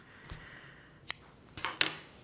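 Scissors snip through a crocheted yarn chain in a few quiet, sharp cuts, the last two close together, against a soft room background with no talking.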